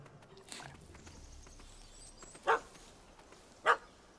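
A dog in The Witcher 3 gives two sharp barks about a second apart, set against a quiet game-world ambience with faint background noise.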